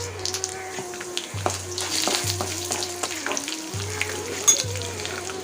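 Dried red chilies and chana dal frying in hot oil give a steady, close sizzle and crackle, with a few spoon stirs and scrapes in a pan while cooking kara kozhukattai.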